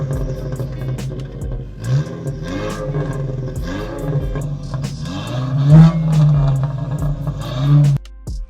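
A cheap used car's engine revs repeatedly, each blip rising and falling in pitch with a throaty growl, louder bursts near the end before cutting off sharply.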